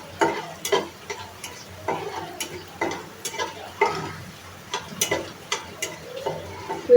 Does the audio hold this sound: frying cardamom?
yes